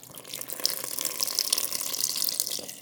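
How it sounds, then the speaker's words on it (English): Water poured steadily over paper stuffed into a container, a continuous splashing trickle with brief surges, close and moderately loud, with no talking. "so just keep pouring water."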